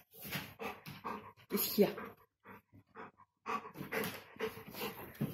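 A big dog pants heavily in short bursts close by, with someone talking in French between and over the breaths.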